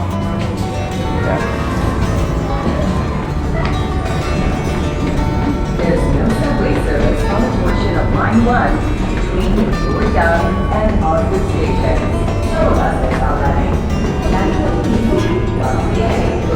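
Subway train rumble at Osgoode station on the Toronto subway, a steady loud roar of wheels and motor through the platform with some background voices.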